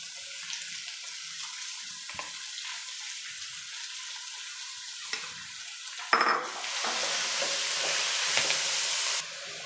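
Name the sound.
fenugreek leaves frying in oil for egg bhurji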